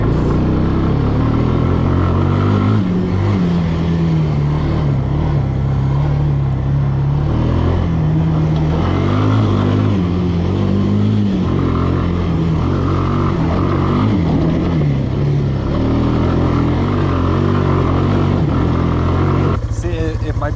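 A cheap four-wheeler ATV engine revs steadily and loudly close by, its pitch rising and dropping as it shifts through the gears, with a person talking over the engine noise.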